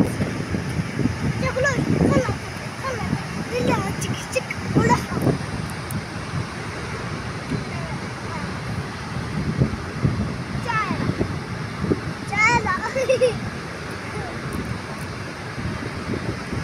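Sea waves washing ashore at sunset, a steady broad rush of surf mixed with gusting wind buffeting the microphone, continuous throughout with no voices.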